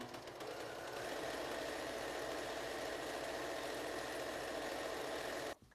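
A sewing machine runs a continuous, even stitching whir along the seam of a fabric shoe bag for about five seconds, then stops abruptly; close and steady with no voices.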